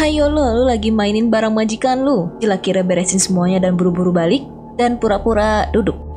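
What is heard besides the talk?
No distinct noise like a dog, phone or traffic.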